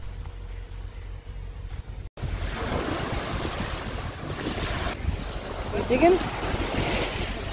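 Ocean surf rolling onto a beach with steady wind noise buffeting the microphone, a brief cutout early on, and a voice speaking briefly over the continuous wash.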